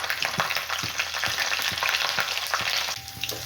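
Curry leaves drop into hot oil already holding mustard seeds and garlic, raising a strong, steady sizzle broken by regular clacks of a spoon stirring the pan.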